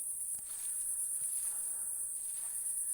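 Faint, steady high-pitched cricket chirring runs continuously in the background of a bamboo forest on a quiet night, with no one speaking.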